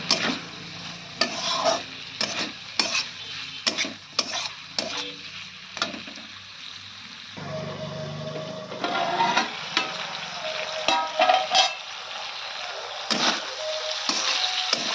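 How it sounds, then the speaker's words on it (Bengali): Spices and fried bitter gourd pieces being sautéed and stirred in a pan for a Bengali curry, with repeated utensil scrapes and clatters over a soft, uneven frying sizzle, close and busy throughout. "কষিয়ে নেব"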